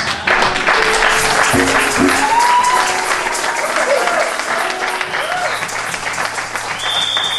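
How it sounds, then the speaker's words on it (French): A church audience applauds and cheers for the pastor's parents: steady, dense clapping from a large crowd that holds loudly from start to finish, with a few scattered voices. "Est-ce qu'on peut acclamer pour ses parents ici?"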